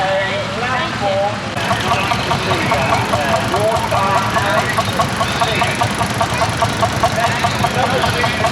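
A steam traction engine fitted with a superheater and rated at about 45 horsepower passes at a steam and heavy horse show. It chuffs and knocks in a steady rhythm, loud and close, while someone talks over it.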